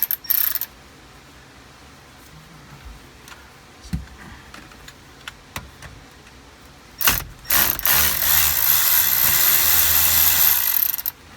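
A T50 Torx bit in a ratchet loosens the steering wheel bolt on a Ford, with scattered clicks and light clunks, then a loud, sustained ratcheting whir as the bolt spins out.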